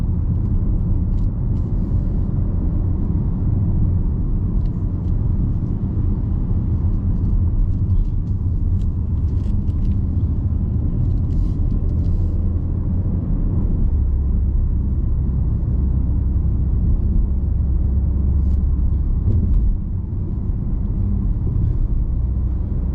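Cabin rumble from a 2013 Audi SQ5 3.0 BiTDi Tiptronic quattro on the move, a steady low road and engine drone with no talk.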